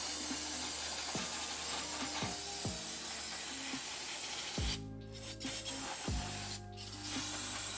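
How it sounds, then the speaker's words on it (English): Brake cleaner from a kit sprays onto the brake calipers of a four-month-old car, a close, steady hiss running throughout with a few short pauses between bursts. "we're gonna take the provided brake cleaner that the kit came with, and we're gonna start spraying off these brake calipers"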